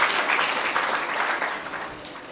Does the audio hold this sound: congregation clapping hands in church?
yes